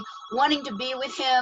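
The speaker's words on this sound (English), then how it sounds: "Sorry about that phone thing." A telephone bell rings in a repeating trill beneath an overlapping talking voice, fairly close and steady.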